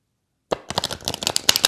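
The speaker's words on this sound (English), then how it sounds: "Let me just shuffle those cards as well. It might get a bit noisy." After a moment of silence, tarot cards are shuffled close up in a quick run of crisp riffling flutters.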